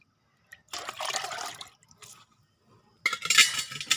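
Water poured into a 10-litre plastic bucket during preparation of an organic liquid crop feed, heard as two splashing, gushing bursts close by, separated by brief quiet.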